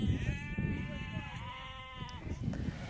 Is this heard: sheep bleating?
yes